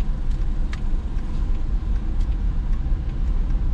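A car pulls away gently during a Florida driving test, its engine giving a steady low rumble with mild road noise and faint clicks over a few seconds, with no one speaking.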